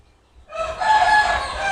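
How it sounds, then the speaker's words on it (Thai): A rooster crows loudly and close by among chickens on a rural vegetable plot in Thailand, one long drawn-out call rising after a quiet start, with no talk over it. "ไก่ครับพี่น้อง"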